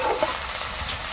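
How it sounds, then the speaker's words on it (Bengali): Garlic stirred in hot frying oil for a Bengali village fish curry, a steady close sizzle with faint scraping movement throughout, no voices. "রসুন দিচ্ছে, মাছের ঝাল হবে। একটু নেড়ে দিচ্ছে।"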